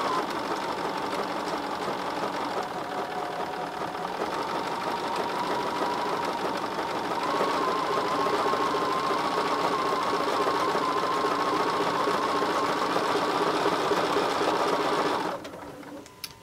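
A sewing machine stitches two pieces of rope together in a steady, close, loud whirring drone that runs without a break for about fifteen seconds, then stops.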